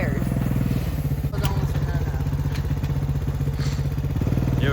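Four-wheeler ATV engine running loud and close while towing a sled through winter snow, a throbbing mid-pitched drone with clattering knocks and a dip in revs midway.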